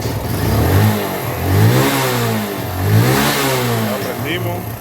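A Suzuki GN125 motorcycle with excessive fuel consumption, its small engine running nearby and revving up and down in a few rising and falling swells, with someone talking over it.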